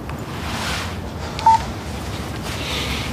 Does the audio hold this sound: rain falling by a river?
no